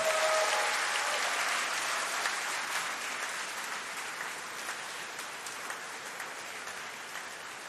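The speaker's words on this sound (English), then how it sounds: "Let's have a round of applause for them." Audience applause at a university degree ceremony for the College of Medicine and Health, a sustained wash of many hands clapping that slowly tapers off in a large hall.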